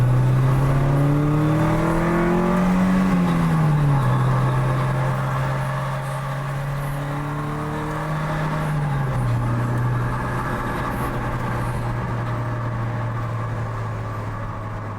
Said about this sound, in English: It feels really good to drive this car again.